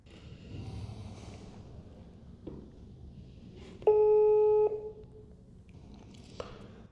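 A telephone tone sounds once, a steady electronic beep lasting under a second against a quiet room background with faint shuffling.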